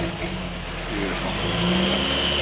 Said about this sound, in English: Can we hear that exhaust, Mr. Steve?